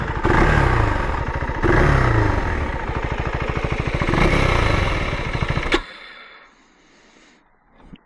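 KTM 390 Adventure R motorcycle engine running off-road with a steady loud rumble and small revs, then cutting out abruptly and dropping to near quiet as it stalls.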